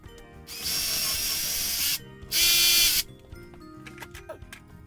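Electric drill with a 6mm bit widening a hole in a wall for a plastic anchor, two close loud whirring bursts of about a second and a half each, followed by light scraping and tapping.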